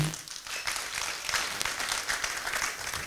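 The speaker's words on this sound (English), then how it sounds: "Can we give a clap to the men?" A room of guests at a college graduation ceremony applauds the men in attendance, a dense, steady patter of many hands clapping together for about three seconds with a faint voice beneath.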